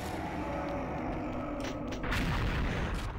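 Explosions in the XSHOT shooter game: low, rumbling booms, fairly distant and muffled, with a heavier blast swelling near the end over a quiet background.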